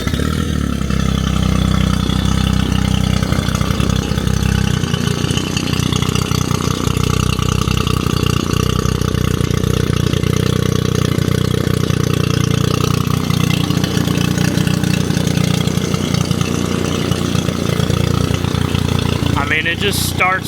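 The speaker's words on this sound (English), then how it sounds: "I'm going to start it up for you, show y'all how it sounds out of the water." A push-button outboard motor on a duck boat runs out of the water on muffs, idling loud and steady right up close with a constant mechanical drone.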